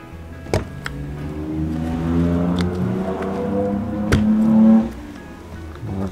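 A car engine revs hard in a garage setting during work on Subaru STI brake calipers, a sustained rising drone with a loud surge near the end and a few sharp clicks over it.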